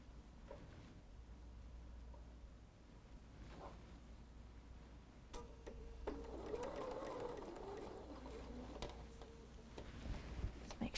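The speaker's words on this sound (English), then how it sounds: "let's take this to our machine, and we're just going to stitch on that line that we've drawn" A sewing machine stitching a fabric heart quilt block along a drawn line: a few light clicks and handling noises first, then the motor whirs steadily and loudly for several seconds, close by.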